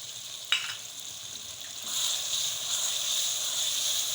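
Yogurt being stirred into kachnar qeema with chicken frying in a pan, a steady sizzle that swells after a brief clink, continuing alone without talk.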